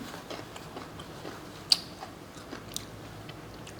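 Crunchy raw beef and liver are chewed close to the microphone, with soft, quiet mastication broken by a few sharp crunchy bites.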